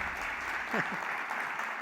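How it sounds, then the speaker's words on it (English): Audience applause at the Intersection 2022 live event fills the room as a steady, dense wash of clapping with no breaks, while a voice speaks briefly over it. "You can clap."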